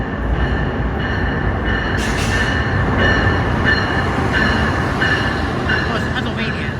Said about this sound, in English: here comes a Amtrak Keystone to New York.